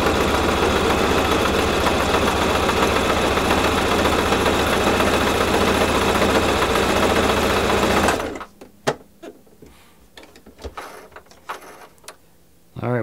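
A sewing machine runs a fast, steady stitching test for about eight seconds, a loud whirring mechanical chatter, then stops, leaving scattered clicks and handling noises.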